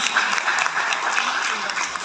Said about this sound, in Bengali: আমাদের হালোঘাটের পক্ষ থেকে তার জন্য একটা হাততালি